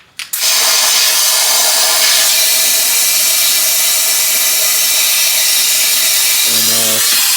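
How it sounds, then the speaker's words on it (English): An air compressor line is connected to pressurize the cooling system of a 1978 Chevy Malibu. A loud, steady hiss of rushing air holds continuously after a brief clunk at the start, close up and unbroken. "So I'm just gonna connect my air from the air compressor."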